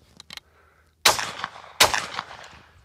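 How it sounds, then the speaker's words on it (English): A Mossberg Gold Reserve Super Sport shotgun fires twice, each shot a sharp, loud blast about three-quarters of a second apart, with short decaying tails and a few faint clicks before the first. "Let's take a look at recoil and reliability now. A couple shots here"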